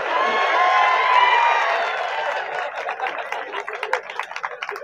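An audience at a public event applauds together, starting as a dense wash of clapping and thinning into scattered individual claps, with crowd voices mixed in.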